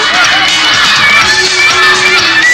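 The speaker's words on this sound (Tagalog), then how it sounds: "Mga bata po yung sumisigaw na yon." Children shout and cheer from a crowded audience at a 1989 Philippine IBC 13 television show, a loud, continuous high-pitched din of young voices filling the space throughout.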